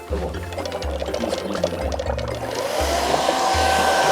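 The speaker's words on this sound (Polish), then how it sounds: "Podłączamy suszarkę do prądu i dmuchamy z każdej strony." Hair dryer plugged in and blowing steadily from each side of a homemade mountain smog model to make wind, a loud continuous whooshing roar with speed changes that step up and down in pitch throughout.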